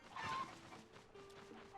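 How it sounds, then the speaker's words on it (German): Chickens clucking in Zelda: Tears of the Kingdom, a few soft, close clucks and bird calls at low volume, heard alone without talk. "Oh, Hühner."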